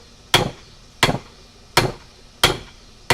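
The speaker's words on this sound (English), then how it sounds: "I keep working this tip out with the hot chisel" Four sharp, evenly spaced hammer blows ring out on a hot chisel working a metal tip, each one close, loud and followed by a quick decay.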